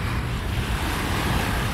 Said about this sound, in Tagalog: sarap pakinggan yung ampas ng alon